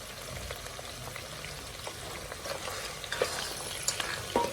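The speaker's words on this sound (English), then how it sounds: "Let's give it a good stir." Food stirred in a hot pan, a steady close sizzle and frying crackle with scraping stir sounds and a few sharper clicks near the end.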